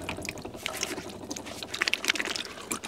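Water running from a tap in a caravan on a freezing winter morning around -10 degrees, a steady broadband trickle and splash with small drips, close and moderately quiet, with no talk.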